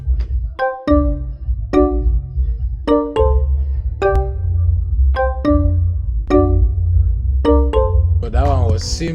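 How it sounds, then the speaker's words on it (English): Bright plucked kalimba tones from a stock FL Studio plugin play an evenly paced melody of ringing notes, ending in a short rising sweep. "So I added what we call kalimba."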